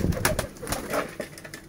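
Lotan pigeons coo in a loft, soft repeated throaty calls overlapping one another at close range, with a few native Kokka birds kept alongside them.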